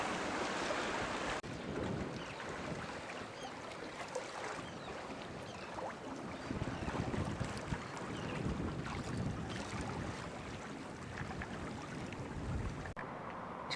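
A Jeanneau sailing yacht runs downwind under headsail through Puffin Sound with the tide, with continuous wind rush over the microphone and steady water wash along the hull, no voices.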